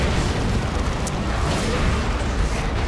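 A lascannon Predator tank's explosive hit in the video game Dawn of War II: Retribution, a heavy, sustained rumbling blast that fills the moment with dense, roaring noise and no talk.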